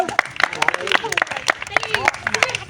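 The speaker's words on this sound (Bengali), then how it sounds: "হাততালি তার জন্য।" Applause rises for a child contestant at a village children's game of throwing a ball to knock over a pot, with quick overlapping claps spread through a crowd and talk mixed in.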